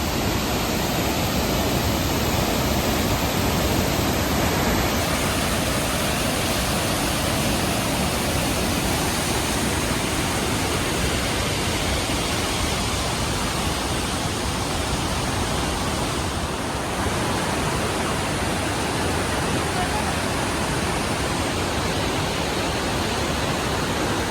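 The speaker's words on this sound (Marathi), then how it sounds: "त्यानंतर तुफान पाऊस पडतोय हो बघा" Heavy monsoon rain pouring down in the Konkan countryside, a loud, dense, unbroken hiss of downpour filling the air throughout.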